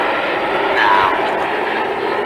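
Red Arrows jets flying in a line-astern formation at the Duxford Battle of Britain airshow, giving a steady, loud broadband engine roar that swells slightly and then holds without any talk.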